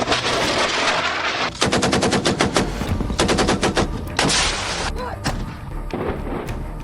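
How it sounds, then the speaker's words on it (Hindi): Artillery and gunfire from a Pakistani army propaganda video: loud rapid bursts of machine-gun fire in clustered rattles, broken by heavy booming cannon blasts, close and dominant throughout. "हवा में तोप गोले दागकर, टैंक दौड़ाकर"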